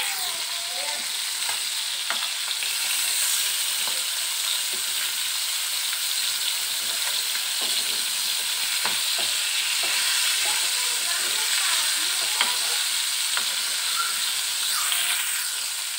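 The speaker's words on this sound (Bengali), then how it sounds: "এখন মাছগুলোকে ফ্রাই করে নেব" Rui fish frying in hot oil in a frying pan, a steady, loud sizzle and hiss with faint clicks of handling throughout, no talking.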